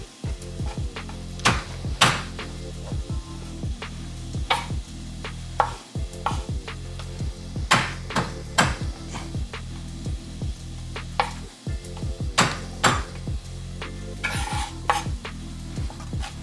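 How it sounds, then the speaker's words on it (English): A knife smashes and then minces garlic on a cutting board while preparing New Mexico Spanish or Mexican rice. A steady run of sharp, close chopping taps comes with occasional heavier knocks. "We're just gonna take our garlic, smash it."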